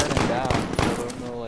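Rapid machine-gun bursts and gunshots from the video game Call of Duty: Modern Warfare crackle loudly in quick succession, mixed with a voice talking over the gunfire.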